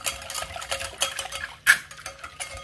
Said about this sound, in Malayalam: ഇനി നന്നായിട്ട് നമുക്ക് വീണ്ടും മിക്സ് ചെയ്ത് കൊടുക്കാം